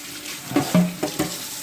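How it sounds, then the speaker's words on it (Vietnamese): Running tap water splashes over a live lobster being rinsed, with a steady wash of flow broken by a few short splashy bursts as the shell is turned under the stream. "Bây giờ trước khi mình nấu thì mình rửa con tôm hùm nghe các bạn."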